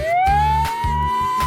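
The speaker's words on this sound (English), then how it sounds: "That's the sound of an ambulance." An ambulance's two-tone siren wails steadily with a slow rising pitch, loud and close, over a low engine rumble, no voices.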